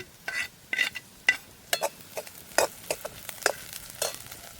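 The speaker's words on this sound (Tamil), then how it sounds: "நான் இப்போ பட்டி வச்சிருக்கிறேன் கருவேப்பிலையை சேர்க்கிறேன்" Cinnamon and curry leaves sizzle and crackle in hot oil for a traditional okra fry, with a steady close frying hiss broken by sharp pops and the scrape of a stirring spoon against the pan.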